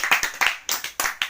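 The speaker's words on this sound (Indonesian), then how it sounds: "Terima kasih, beri tepuk tangannya." A small group of students claps in a quick, even rhythm at a class session held from home, with sharp repeated beats close by.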